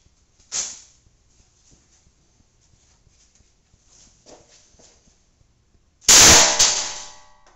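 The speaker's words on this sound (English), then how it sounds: "This is a test stand that simulates the gun going off in a pocket." A 9mm Caltech handgun fires once into a Kevlar-lined pocket holster on a test stand, a loud sharp blast followed by a ringing decay, with a fainter clack from handling earlier.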